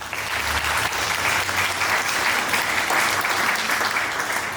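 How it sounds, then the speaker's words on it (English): Conference audience applauding after a talk on trauma recovery, a dense, steady wash of many hands clapping that carries on evenly for several seconds with no voices over it. "the applause of the audience"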